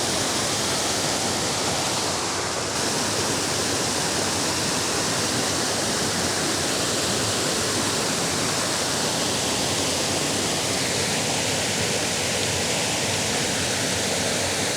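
Waterfall roaring steadily in an autumn outdoor setting, a dense continuous wash of falling water that stays loud and unbroken throughout, with no voices.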